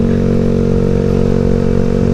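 A Yamaha Xeon RC scooter from 2013 runs on a Jakarta overpass, its engine droning loud and steady at close range with a low, even hum and no voices over it.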